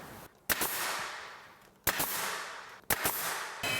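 A pneumatic nail gun fires three sharp, loud shots at uneven intervals while fastening the top piece of window casing in a woodworking shop, each snap followed by a decaying hiss of air.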